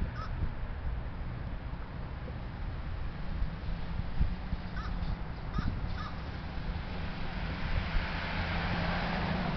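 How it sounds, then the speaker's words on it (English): A young crow perched on a power line caws in a few faint, scattered calls against constant outdoor background noise and distant road traffic, with no talk. "I didn't know crows could make that weird sound."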